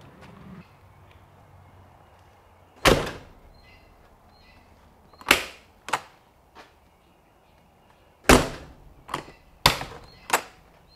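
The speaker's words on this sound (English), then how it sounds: "So I'm going to close the door and" Closing an Airstream RV door fitted with a lockout-blocker latch gives a few sharp, fairly loud thuds and clicks spaced several seconds apart over a quiet background.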